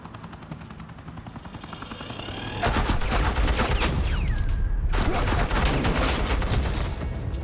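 Agent Quinn's team laying down suppressing gunfire in Batman: The Enemy Within, a dense, continuous volley of rapid shots bursting in over a rotor-like drone, loud and sustained with a momentary break.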